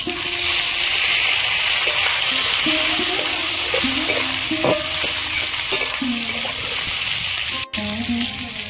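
Chopped tomatoes fry in hot oil in a pan, a steady loud sizzle running throughout with stirring and occasional utensil scrapes and clinks over it, no voices.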